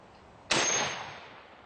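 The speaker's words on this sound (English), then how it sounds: "It's my Henry 4570 Government. Shoots this huge 400 grain bullet." A Henry 45-70 Government rifle firing a heavy 400-grain bullet into a titanium plate: one sharp, loud crack with a bright metallic impact edge that rings out and decays slowly.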